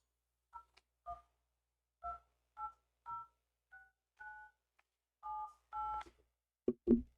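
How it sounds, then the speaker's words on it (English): A phone number is dialed on a phone keypad as a string of about a dozen short, clean two-tone DTMF beeps at an uneven pace. Two sharper clicks follow at the end, with no talking. "Oh, okay, I dialed it wrong."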